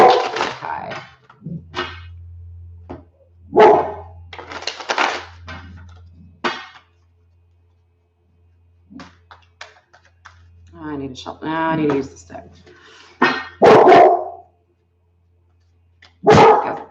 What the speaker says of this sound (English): Like a dog symphony over here,